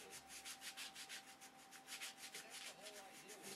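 Steady back-and-forth sanding on wood, rhythmic rasping strokes repeating close up, with no talking.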